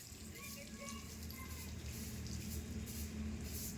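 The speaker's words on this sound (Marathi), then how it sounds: "झाडाला पाणी घाल, झाडाला झाडाला." Water splashes and hisses steadily onto a plant outdoors, a continuous wet gushing spray with voices talking faintly over it.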